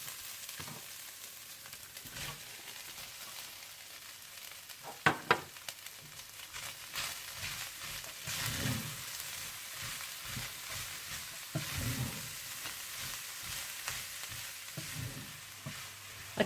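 Minced meat and onions fry in a pan as stuffing for bitter gourds, with a steady soft sizzle and hiss. Occasional louder stirring scrapes and clatters cut through the sizzle, and no one speaks.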